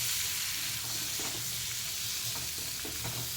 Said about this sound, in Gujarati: હવે પ્રોપર બધું મિક્સ કરી લેવાનું.